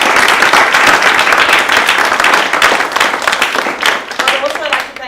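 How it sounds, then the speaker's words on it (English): A full round of loud, close applause for students who presented technology solutions at a law school event, thinning toward the end as a voice begins to speak. "every single student who presented today deserves a special round of applause"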